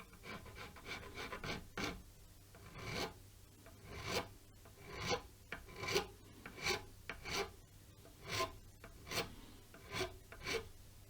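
Repeated rasping file strokes reshape a guitar nut in a handmade guitar build, about a dozen rhythmic, fairly close passes with brief pauses between them, and no talking.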